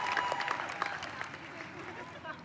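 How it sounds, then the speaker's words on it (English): Street crowd clapping and cheering for the US women's soccer team at a New York parade, brief applause with voices mixed in, somewhat distant and fairly faint. "Give them a clap."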